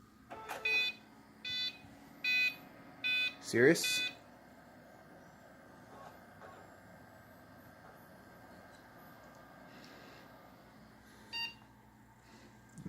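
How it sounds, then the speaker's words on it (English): A series of short electronic computer startup error beeps sounds in a regular pattern, followed by a brief exclamation and one more beep later, with quiet hum between. "let's see if we get the beeping stuff again"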